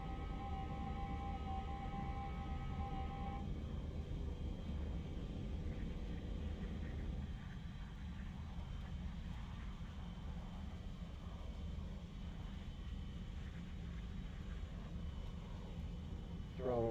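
Steady, loud jet engine roar of a MiG-21 MF in flight in a combat flight simulator, a continuous rumble throughout with a brief tonal whine at the start and no talk.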